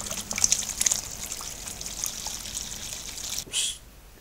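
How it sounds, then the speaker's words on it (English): Water runs out of the open tap of a home-brewing mash tun, a steady close trickle and dribble that sputters briefly near the end. "open your tap up and empty as much of that water out"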